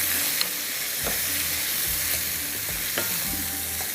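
Vegetables fry in oil with spices in a pan for a desi fish and egg tarka dish, a loud continuous sizzle with occasional stirring scrapes and clinks close by, no talking.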